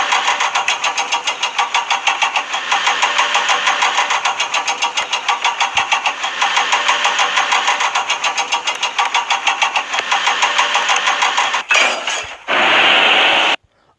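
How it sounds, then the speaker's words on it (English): A mechanical crane sound effect used for a turntable in an animation, a loud steady whirring drone with rapid pulsing that runs continuously, then cuts out abruptly with a brief burst near the end. "the crane sound effect worked really well with the turntable"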